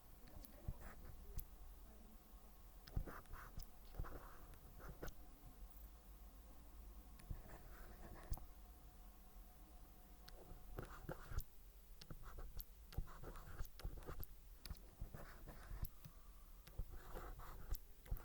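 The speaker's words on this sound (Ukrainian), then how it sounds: "Я буду писати" A teacher writes numbers by hand, faint scratchy strokes and light taps coming in short intermittent bursts over a low steady background hiss.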